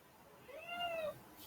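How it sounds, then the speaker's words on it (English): A single drawn-out cat meow, fairly faint, rising and falling over about a second against a quiet indoor background. "I don't know if you can hear him meowing."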